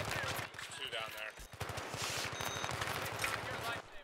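Rapid automatic gunfire in a Battlefield 3 match, fast rhythmic bursts of close shots rattling through nearly the whole stretch, with faint voices mixed in.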